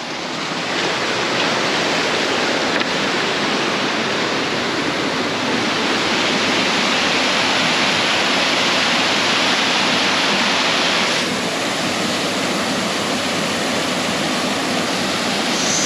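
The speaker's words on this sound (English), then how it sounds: "I didn't even know there was a waterfall here" A waterfall on Tasmania's east coast roars in a loud, continuous broadband rush, steady and close, with no other sounds standing out.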